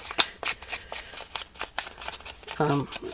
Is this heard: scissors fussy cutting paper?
yes